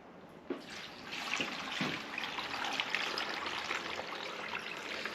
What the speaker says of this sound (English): We're going to pour the water, so there's no trickery or witchcraft.